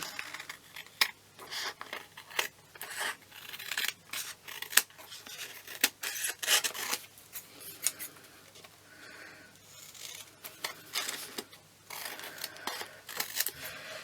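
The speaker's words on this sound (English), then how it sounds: "Right, so just going to trim these edges off." Scissors trimming the edges of paper card, a series of close crisp snipping and slicing strokes in irregular bursts with brief pauses between cuts, quiet and intimate with no talking.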